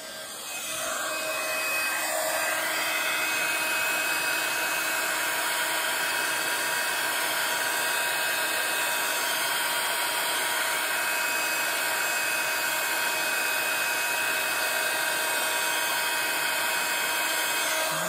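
A heat tool runs steadily on a craft piece, a continuous airy blower hiss with a faint whine that starts softly and holds loud and even to the end, with no talking.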